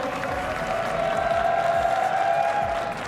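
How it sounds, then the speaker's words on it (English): A crowd cheers and applauds steadily at an Apex Legends esports tournament, a dense wash of clapping and shouting with a sustained whistle-like tone riding over it. "Crowd, make some noise for 3 of the best players in the world."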